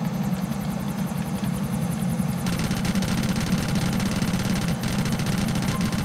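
A helicopter in the video game GTA IV, its rotor and engine droning steadily and loudly at close range with a fast, even chopping pulse throughout.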